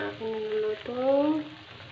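Pot of paksiw, galunggong fish simmered with bitter gourd (ampalaya), bubbling under a lid with a steady close sizzle and soft rolling boil, no voices.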